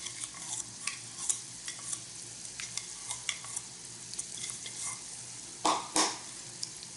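Brown sugar is stirred into a glaze in a hot pan, with soft sizzling and repeated light scrapes and clinks of a utensil against the pan, close and without talk.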